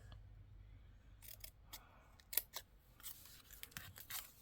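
Scissors snip paper in a few short, quiet cuts with pauses between them, close by in a calm room during a paperclip craft.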